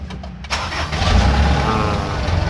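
A car engine is cranked by its starter and quickly catches, switching from a brief whirring crank into a steady, loud running rumble at close range.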